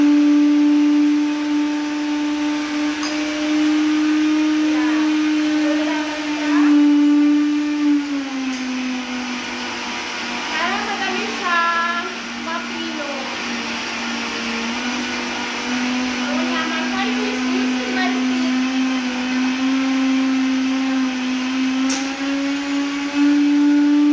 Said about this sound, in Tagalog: isara na natin siya at pwede na natin siya i-blend. At hintayin natin siya na ma-pulverize.